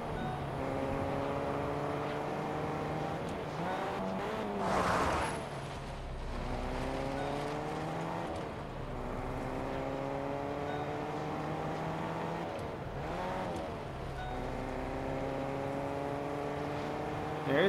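A car engine in Fortnite drives along a desert road with its fuel running low. The engine drones steadily and rises through several revving gear shifts, with short bursts of noise between them, close and continuous with no talking.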